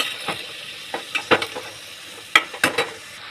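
Mixed winter vegetables go into a pan with black cumin and ginger. A soft sizzle sits under scattered clinks and stirring scrapes, close and fairly quiet, with no voices.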